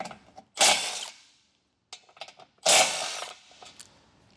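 A hand ratchet backs out 15mm screws from a 2025 Tesla bumper in two bursts of quick metallic clicking, each ringing briefly and then fading, with softer tool handling and a short silence between them.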